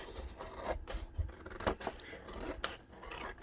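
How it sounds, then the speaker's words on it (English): Squeaky scissors trimming paper for an ephemera book, several close snips with scraping and rubbing, no talking. "Sorry about the squeaky scissors."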